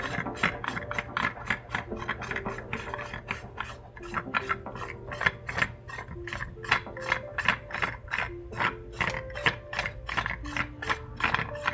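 Receiver of an SAS-12 shotgun being unscrewed, with rapid repeated ratcheting clicks of metal threads turning, close and steady across the span without talk.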